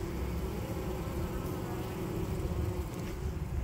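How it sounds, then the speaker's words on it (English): Disoriented, poisoned honey bees swarm in a water meter, a dense, continuous buzzing hum, close and steady, with no other sounds. "All these bees are disoriented and probably about to die."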